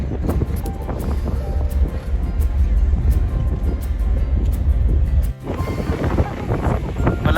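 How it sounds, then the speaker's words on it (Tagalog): Strong wind buffets the microphone on an open ferry deck, a loud, constant low rumble with gusty surges and a brief dip near the end, likely mixed with vessel engine drone. "Medyo malakas ho ang hangin."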